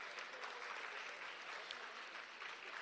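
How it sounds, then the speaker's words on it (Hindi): Audience applause at the closing ceremony of a theatre festival as a guest is called to the stage, a continuous, even spread of many hands clapping heard at a distance, faint and unbroken for the whole stretch. "इनके लिए तालियां हो जाए।"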